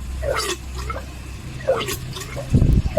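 Air bubbling and gurgling in the front fork oil of a Honda Lead scooter while it is bled during a fork seal replacement, a few soft wet bursts at close range, with a louder bubbling gush near the end.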